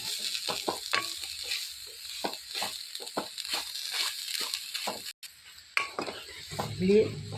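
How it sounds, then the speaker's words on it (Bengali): Grated coconut for coconut kheer sondesh stirred and fried in a pan over low heat, with a steady soft sizzle broken by repeated scraping strokes of the spoon against the metal and a brief clatter near the end. "একদম স্টিমটা কমিয়ে কমিয়ে ভাজবেন নারকেলটাকে"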